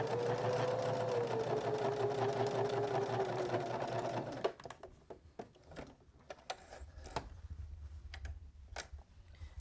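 A sewing machine runs steadily for about four seconds while stitching around a drawstring bag, then stops, leaving light handling clicks and taps.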